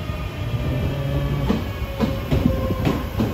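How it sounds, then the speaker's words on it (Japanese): Limited express Shinano train pulling into a platform at Nagoya Station, its steady rolling rumble joined by rhythmic clickety-clack of wheels over rail joints, close and continuous with no talk. "特急シナノが入ってきましたね。"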